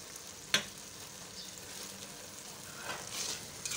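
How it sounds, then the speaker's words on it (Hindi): Kachnar with keema fries in a pan, a steady low sizzle with one sharp clack of a spoon near the start and a brief swell of frying noise toward the end. "ये देखिए कचनार भुनी जा रही है"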